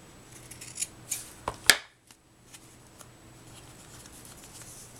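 Scissors snip a handmade birthday card, a few quick close cuts followed by one sharp louder snip, then quiet rustling of the paper.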